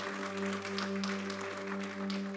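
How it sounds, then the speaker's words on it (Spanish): A church congregation clapping together, a steady rolling patter of many hands at moderate loudness, sustained under a constant low hum from the sound system. "Denle ese aplauso fuerte a Cristo porque Él es bueno."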